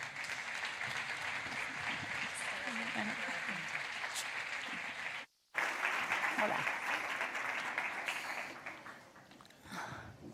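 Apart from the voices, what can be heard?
audience applause welcoming speakers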